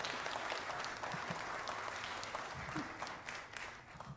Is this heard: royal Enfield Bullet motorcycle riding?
no